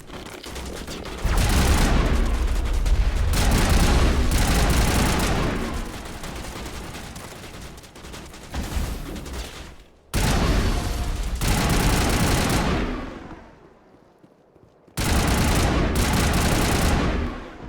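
Sustained crossfire rattles through a Mass Effect firefight in loud, dense bursts of rapid gunshots, broken by two brief silent cuts before the shooting resumes.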